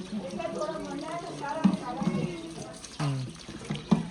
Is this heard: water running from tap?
yes